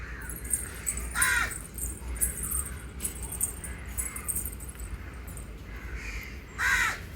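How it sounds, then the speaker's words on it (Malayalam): A crow caws twice, loud and harsh, a few seconds apart, over steady outdoor background noise with faint chirps. "കാക്ക എങ്ങനെയാണ് വിളിക്കുന്നത്?"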